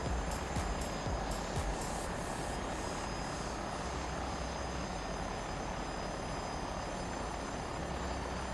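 A helicopter in a flight simulator game flies over volcanoes and Lake Titicaca in Peru, its rotor and engine a dense, continuous whirring roar at steady volume.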